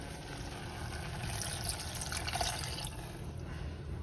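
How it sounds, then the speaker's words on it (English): Vinegar poured into a double batch of habanero hot sauce, a steady, fairly quiet splashing trickle of liquid running for several seconds without talk. "now we're gonna add the vinegar"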